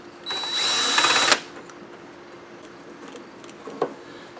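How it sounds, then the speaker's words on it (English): A power drill spins loosely for about a second while removing the top bolts of the tank on a Yard Machine lawn mower. It is a loud, close, high whir that stops abruptly and leaves a quiet workshop with a faint tap afterward. "we'll go ahead and remove these top bolts for the tank"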